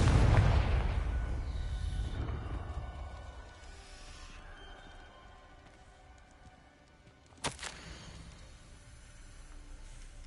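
Confringo spell explosion in Hogwarts Legacy, a loud booming blast that rumbles and fades over several seconds, then a sharp single pop later on, with no speech.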